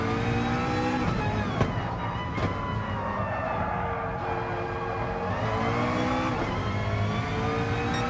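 Race car engine in a sim racing video game during an endurance championship round, a steady loud drone with shifting harmonic tones and brief pitch sweeps as the engine note rises and falls, continuous and up close.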